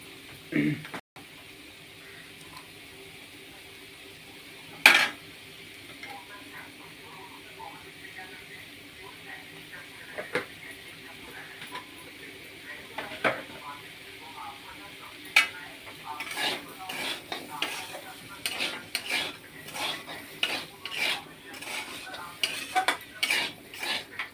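Spices sautéing in a pan as salt and chili powder go in, with scattered metal spoon scrapes and clinks that grow busier and more rhythmic toward the end over a faint sizzle.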